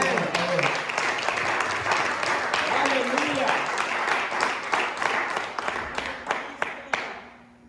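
Church congregation applauding after a sermon call, dense clapping sustained for several seconds then thinning into scattered claps as it fades; a voice and faint musical tones sit beneath.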